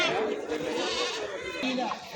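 Goats at a livestock market bleat close by, a couple of wavering cries over crowd chatter and nearby talking.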